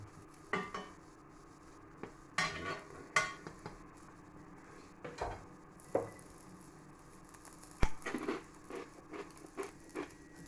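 Cheese-filled waffle batter cooking in a frying pan, heard as scattered clinks and taps of utensils against the pan over faint background noise.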